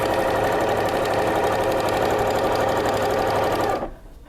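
A domestic sewing machine runs flat out at maximum speed while stitching two seams to join quilt blocks, a steady loud whirring hum that stops abruptly near the end.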